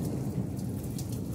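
Steady rain with a low thunderstorm rumble, heard over a stand of potted plants; continuous dense hiss and low rolling energy without pause and with no voices.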